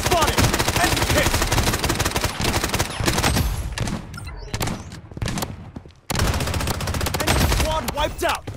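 Gunfire in the Blood Strike battle royale game, rapid loud automatic bursts with short gaps and a quieter stretch midway, then dense firing resumes.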